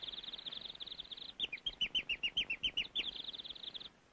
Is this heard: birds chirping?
yes